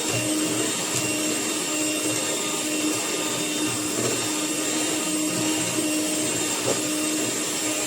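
Electric mixer beating eggs, vanilla and batter for festive sweets, a steady continuous whir holding at the same level throughout with no talk.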